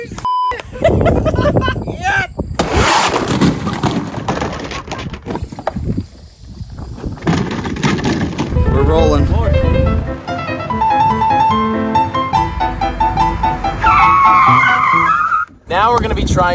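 A small car flung from a giant slingshot: loud tire skids and engine noise amid shouting voices, with electronic beeps and sharp bursts, close and chaotic throughout.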